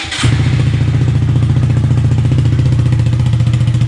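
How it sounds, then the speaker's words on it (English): A Honda Grom engine cranks and catches on a cold start, then settles into a loud, steady, rhythmic thumping idle through an aftermarket Ransoto exhaust with the baffle in, close by. "This is with the baffle in"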